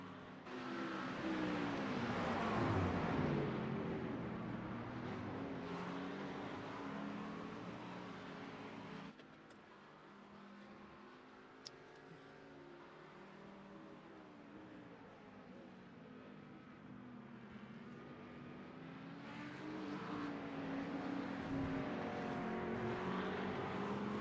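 Race cars circling the Oulton Park road course in a road series race, engines droning and swelling as cars pass, fading to a steadier distant hum mid-clip before rising again toward the end.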